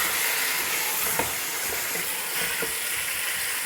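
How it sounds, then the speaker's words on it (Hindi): One kilogram of chicken fries in hot oil for biryani, giving a steady close sizzling hiss with a few faint pops and stirring clicks. "अब इसको मैं अच्छी तरह से करूँगी फ्राई"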